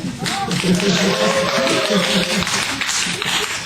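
An audience at a book publishing talk gives a dense, steady patter of applause that fills the room, with faint voices and laughter underneath.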